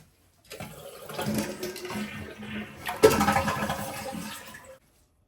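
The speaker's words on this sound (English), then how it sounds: "Flush this toilet to get most of the water out of the tank." A Kohler toilet flushes and drains its tank in one loud surge that rises, peaks midway and tails off into gurgling before stopping, heard up close with no talk.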